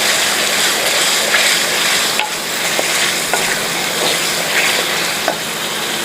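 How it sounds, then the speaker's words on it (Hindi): Beef karahi, Peshawari Shinwari style, fries steadily in a pan with a constant sizzle, broken by faint clinks and scrapes of stirring. No voice is heard. "इसको अच्छी तरह भूनना है हमने।"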